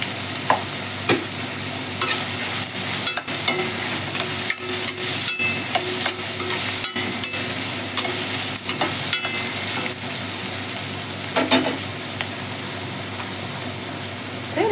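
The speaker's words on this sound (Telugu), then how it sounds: "పచ్చిమిర్చి చీలికలు 2 లేదా 3 వేసుకోండి. అలాగే 1 స్పూన్ జీలకర్ర" Green chilli slits and cumin seeds fry in a pan, giving a steady close sizzle throughout with scattered clicks and scrapes of stirring.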